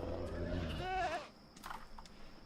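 A goat in the video game Dreamfall Chapters gives a single wavering bleat, brief and mid-distance, over a low ambient hum and soft background murmur.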